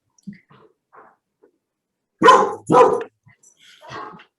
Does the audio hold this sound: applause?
no